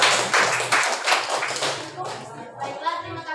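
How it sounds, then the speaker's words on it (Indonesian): Classroom applause for a presenting group during a teaching-practice session, a burst of clapping that fades out after about two seconds, followed by a voice speaking. "Oke, tepuk tangan untuk kelompok"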